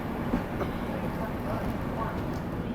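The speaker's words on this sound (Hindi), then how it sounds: "ये अपना बाराबंकी जंक्शन रेलवे स्टेशन" Train noise at Barabanki Junction railway station, a steady rumbling wash of rolling wagons and platform ambience, with voices mixed in.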